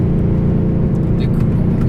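A Mercedes-Benz CLS63 AMG on the road, a steady low engine drone and tyre rumble from inside the cabin, continuous and fairly loud without clear revving.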